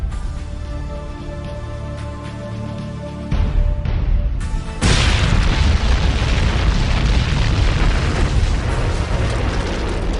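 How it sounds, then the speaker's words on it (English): Heavy bombing explosions strike the battleship Yamato under air attack, with a low rumble building into sustained, loud, roaring blasts and a continuous thunderous wash of detonations. "The Yamato was relentlessly bombed, but she did not sink from the air raid."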